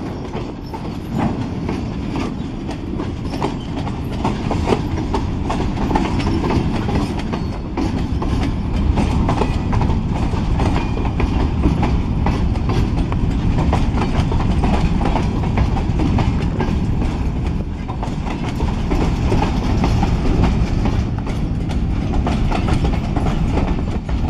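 A long freight train rolls past on the rails, with steady rhythmic clickety-clack of wheels over joints and rumbling wagons continuing close and loud throughout, without talk.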